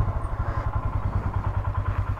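A motorcycle is wheeled indoors to be parked, its engine giving a close, steady low throbbing pulse with faint clatter throughout.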